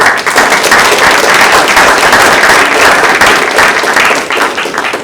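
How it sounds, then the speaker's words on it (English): Symposium audience applauding the speakers, a loud, dense, continuous wash of clapping hands filling the room with no break for five seconds. "let's have a round of applause for them being here for us"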